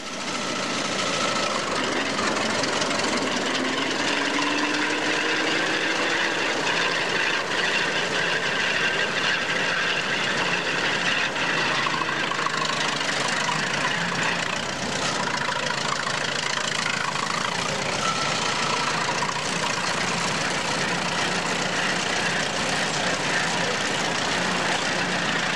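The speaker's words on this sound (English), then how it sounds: "This is a square turn tractor, about a 1917 model." A 1917 Square Turn tractor, built in North Fork, Nebraska, has its old engine running at a steady idle through the whole stretch, a continuous mechanical rumble and clatter with some broadband noise around it.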